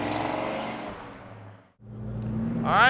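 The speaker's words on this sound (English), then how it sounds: "here we go for riding a 69 convertible" A black 1969 Pontiac GTO convertible with a 400 engine and 4-speed pulls away on the road, its engine note building, dipping briefly, then rising again toward the end.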